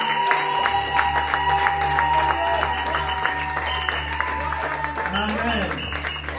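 A church congregation applauds during an ordination service in Montauban, with sustained, dense clapping over steady musical tones and a voice speaking.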